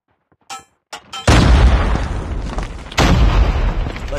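Frag grenade exploding in Call of Duty Mobile: a few faint clicks, then a loud close boom with a rumbling tail and a second blast soon after.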